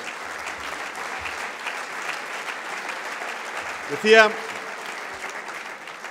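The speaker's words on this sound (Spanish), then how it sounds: "un aplauso para todos vosotros, que os lo merecéis" A large audience at a political rally in Bilbao applauds steadily throughout, a continuous wash of clapping, with a brief voice breaking through near the end.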